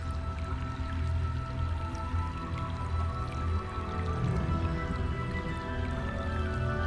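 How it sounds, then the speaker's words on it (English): Steady flowing water of the river Styx below the Isle of the Dead in Neverwinter Nights, a continuous dense watery churn with drips and gurgles, constant in level throughout. "The sounds below are those of the river Styx, which flows ultimately to Stygia."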